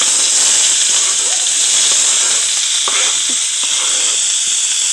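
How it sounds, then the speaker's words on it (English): Chopped onions dropped into a very hot pan, filling the clip with a loud, steady, hissing sizzle and a few faint stirring knocks, close by with no speech. "I'm going to add my onions."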